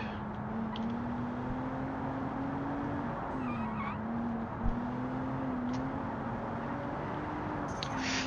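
Medium-compound tires squeal at the limit in the Automation car game, a steady tonal whine that rises and dips over a continuous engine and road roar, with brief scuffs near the end.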